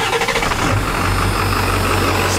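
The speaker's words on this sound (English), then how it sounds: "Fire it up for you guys. You can see how smooth it starts up." A Ford OBS Powerstroke diesel truck engine cranks briefly and catches, then settles straight into a steady, rumbling idle close by.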